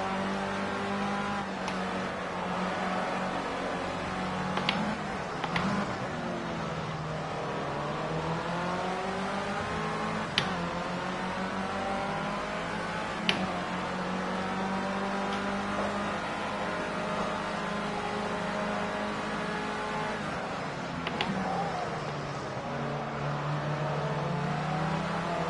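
Formula C open-wheel race car engines in Project Cars 2 hold a steady high whine throughout, rising and falling with gear changes, with sharp shift blips and another car close by in the slipstream.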